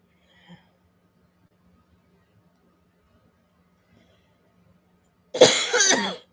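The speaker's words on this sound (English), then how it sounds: "I'm starting to cough" A single burst of coughing near the end, close and fairly loud, following a long stretch of near silence broken by one faint tick early on.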